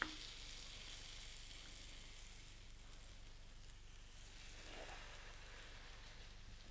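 French toast sizzling in melted butter in a hot pan, a quiet, even crackle and hiss running steadily throughout with no talking.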